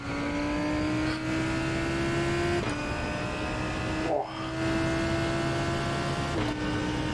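Lamborghini V10 engine in the iRacing sim racing game, a steady droning engine tone with a few brief gear-shift dips, a short flutter midway, then holding on at a constant pitch.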